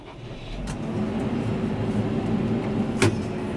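A tractor engine idles and runs steadily at close range before field sowing of winter wheat, a low continuous rumble with a brief sharper burst near the end and no voices.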